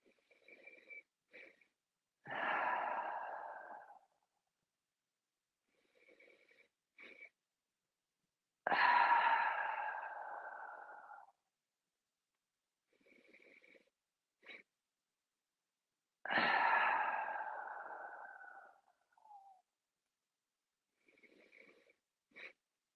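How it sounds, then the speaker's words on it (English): Breathing exercise with quick sniffing inhales through the nose followed by long, loud sighing exhales out the mouth, repeated in three close, breathy rounds with short pauses between. "So it's inhaling through the nose. Another quick inhale."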